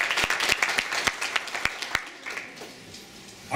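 An audience at an art event claps for standing members, a burst of loud applause with distinct sharp claps that thins and fades over a few seconds.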